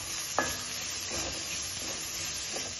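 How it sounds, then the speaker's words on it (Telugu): Mushroom fried rice fries in a pan with a steady, dense sizzle and hiss, close and even, broken by a few light clicks of stirring, with no voices. "చూడండి బాగా ఫ్రై అవుతుంది."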